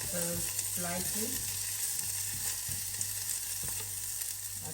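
Onions browning in oil in a frying pan give a steady, crackling sizzle, with a few brief whistling or scraping tones early on and occasional soft clicks of stirring.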